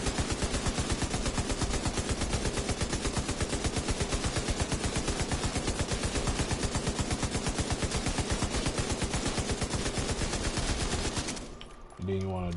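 A light machine gun in Division 2 fires a long, sustained burst of rapid, evenly spaced shots, loud and close, cutting off abruptly near the end into a brief mechanical clatter.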